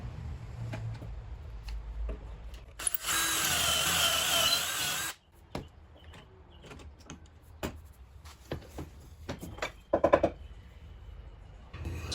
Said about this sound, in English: I then drilled 2 corresponding holes along the faces of the legs where the stretchers will attach.